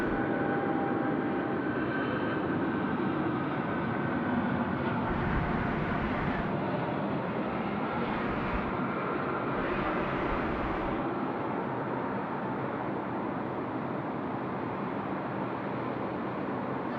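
At night a Jetstar Boeing 787 takes off for Honolulu from Sydney, giving a sustained, moderately distant jet rumble that swells briefly in the middle and then settles. No voices can be heard.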